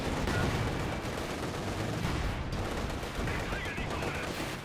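Gunfire from the World War II strategy game Company of Heroes 2, dense continuous volleys and rattling shots in a loud unbroken stream, with some game speech mixed underneath.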